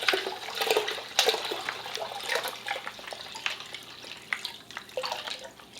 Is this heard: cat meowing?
no